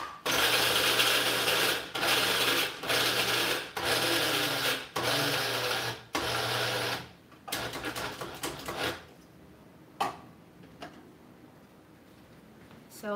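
Roasted peanuts grind into peanut butter in an electric grinder, loud rough whirring bursts in several pulses with short gaps, then quieter rattling and scraping as the motor stops.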